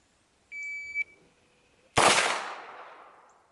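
Handgun fired out an open car window, a single loud sharp shot with a ringing decay, preceded by a brief electronic beep tone, no talk.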